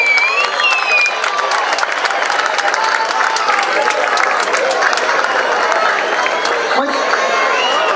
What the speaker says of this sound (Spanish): El aplauso, el reconocimiento a Mariana Carrizo